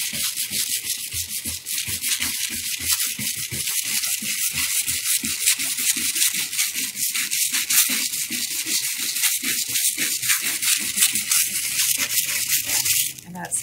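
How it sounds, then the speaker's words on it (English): A rag scrubbing metallic foil onto raised letters, a rapid rhythmic rubbing and scratching that runs continuously and close, with a brief pause near the end. "we're gonna scrub."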